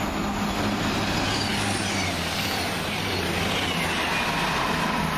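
Voyager passenger train to Chester passing near the trackside at Wolverton, a continuous loud diesel rumble and roar with a broadband rush, steady throughout and with no speech.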